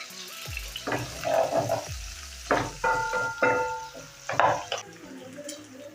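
Beef and onions frying in a pan for spaghetti, stirred with a utensil that scrapes and clatters in uneven bursts over a soft sizzle.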